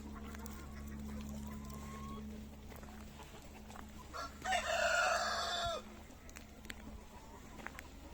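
A rooster crows once, loud and drawn out, in the middle, with chickens faintly clucking and general farmyard noise around it.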